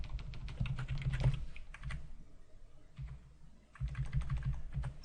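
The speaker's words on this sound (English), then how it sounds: "if I can type right" Typing on a computer keyboard while coding a C application, quick bursts of close key clicks separated by short pauses, with no voice.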